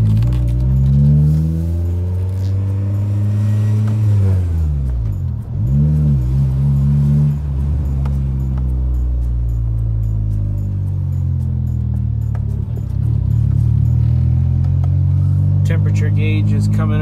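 A Honda Prelude is driven, its engine droning loud inside the cabin, rising and falling in pitch as it shifts and revs, with brief dips and a faint jingle.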